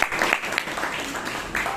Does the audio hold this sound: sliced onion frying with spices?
no